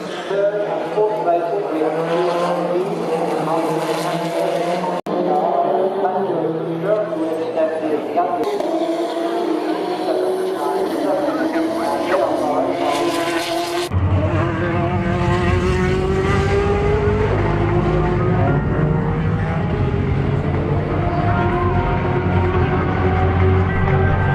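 Corvette race cars screaming past at the Le Mans 24 Hours, engine notes rising and falling in several loud passes, with a French commentator talking throughout.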